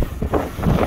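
Strong wind buffets the microphone outdoors near water, a loud rumbling gust in a brief burst with no talk.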